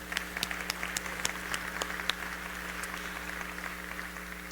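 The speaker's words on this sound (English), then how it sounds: "Let's give a round of applause for that." Audience applause at a celebrity speaker event, a steady patter of many hands clapping that sounds fairly distant and soft, then gradually thins out.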